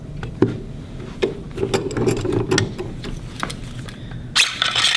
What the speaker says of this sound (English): we're going to loosen up our gas block. You don't have to take the screws all the way out, just loosen them up